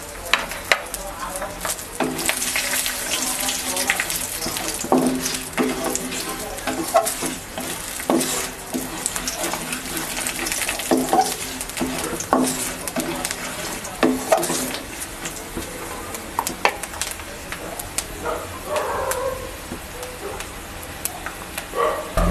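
Peanuts frying in hot oil seasoned with black cumin in a pan, a steady sizzle with repeated scraping and clinking of a spoon stirring throughout.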